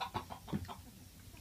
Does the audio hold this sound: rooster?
yes